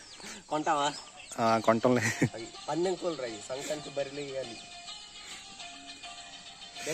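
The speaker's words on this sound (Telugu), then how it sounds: "పక్కనే కోళ్ళు ఉన్నాయి కోడి పుంజులు" Several chickens cluck and squawk close by in uneven bursts, with a rooster's drawn-out calls among them, then the clucking thins out, on a foggy village morning.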